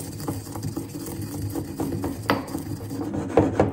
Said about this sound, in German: Und das wird jetzt gemörsert.